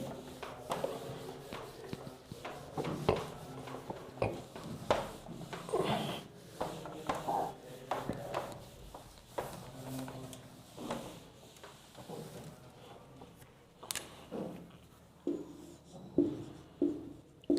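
Chalk or marker writing on a board during a chemistry lecture gives faint scratchy strokes and taps in irregular bursts, fairly distant, with room noise and occasional knocks.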